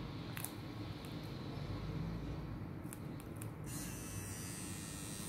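A wireless tattoo pen machine, fully charged and set to 7.5 volts, runs in a steady, continuous electric buzz close by, with a few brief clicks near the start and midway as it is handled over practice skin.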